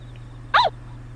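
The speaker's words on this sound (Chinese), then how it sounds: "小狗狗，你要去哪里呢？" A single short, high-pitched dog bark in the video game Yomawari: Midnight Shadows rings out once over a steady low electronic hum, with quiet before and after.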